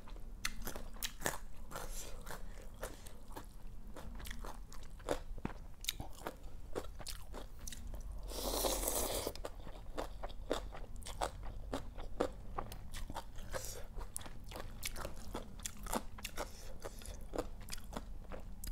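Close, repeated crisp crunching bites and chewing of fresh raw vegetables eaten with a spicy Thai squid tentacle salad, sharp cracks coming in quick irregular succession with a short rustle midway and no talking.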